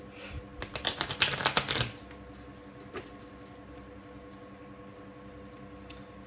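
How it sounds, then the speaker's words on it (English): A quick riffle of tarot cards shuffling, a rapid flutter of soft clicks lasting about a second and a half, then near quiet with a faint tap or two. "Just want to give this a good shuffle."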